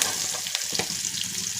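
Onion sizzles in hot oil with popped mustard seeds, chilli, garlic and curry leaves for tamarind chitranna, a steady loud frying crackle with bursts of stirring.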